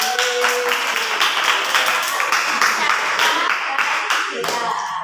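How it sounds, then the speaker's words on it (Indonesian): Applause and hand clapping from an audience at a youth gender-awareness session in Indonesia, a dense, steady patter of many hands filling the whole stretch with some voices mixed in. "Tepuk tangan dulu."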